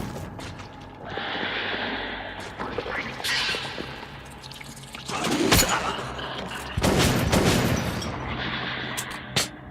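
Shotgun blasts aimed at creatures in Metro: Last Light, with several loud close booming shots at irregular intervals amid creature noises and mechanical clatter from the game.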